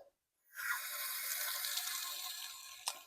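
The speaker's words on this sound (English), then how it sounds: "So I've turned this one on and there's water coming out this first cartridge." Water rushing steadily out of a water filter cartridge, a continuous close hiss and splash after a brief silence, with one louder splash near the end.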